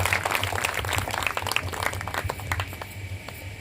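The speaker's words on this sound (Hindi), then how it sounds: "आप सभी लोग करतल ध्वनि से जोरदार तालियों से स्वागत करेंगे" An audience at a gathering on India's freedom movement applauds to welcome a speaker, a dense burst of clapping that thins slightly toward the end over a low background hum.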